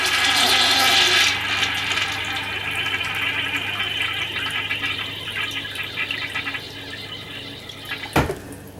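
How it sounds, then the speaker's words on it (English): A foot-pedal RV toilet in a 2023 Alliance Valor 31T13 rear bath flushes with a loud rushing gush of water that fades into a draining trickle, ending with a sharp clunk as the pedal releases, heard alone. "And all the way down we'll flush it."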